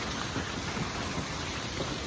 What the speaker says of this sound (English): Now the hail's getting bigger.